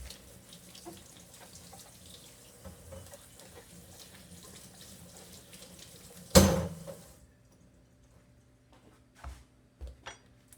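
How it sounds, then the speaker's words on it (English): Tap water runs into a kitchen sink while eggplants are rinsed, a steady low wash through the first six seconds, ending in a sharp splash or clatter, then quiet with a few soft knocks. "Let's wash them off a little bit."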